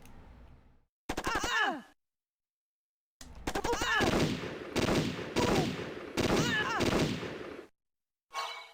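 Gunfire rings out in the Game Boy Advance shooter Ecks vs. Sever: lo-fi, crunchy volleys of rapid shots come in several distinct bursts, each followed by abrupt silence, with a short final burst at the end.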